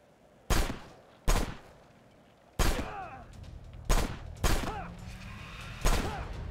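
Six sharp, loud gunshots from the video game Left Alive crack out at uneven intervals, each followed by a brief ringing decay, with steady background game ambience between them.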